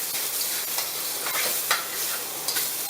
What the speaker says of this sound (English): Now we're going to stir fry the onion and tomato together.